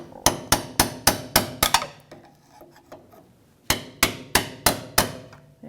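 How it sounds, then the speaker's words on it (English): A hammer strikes a metal punch to peen back a tab on a Honda Odyssey inner tie rod, giving sharp close metallic taps in two quick rhythmic bursts of about six blows each, separated by a short pause. "Just going to take a punch and just peen it back so that we can peel this right off."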